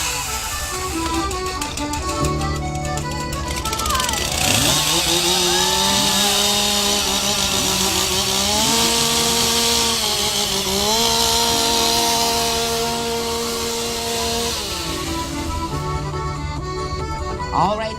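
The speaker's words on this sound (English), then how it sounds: "We're going to let them get all their equipment in place here and warm up their chainsaws" Several chainsaws warm up before a timber sports event, engines idling then revving in overlapping whines that rise and fall, loud and close throughout.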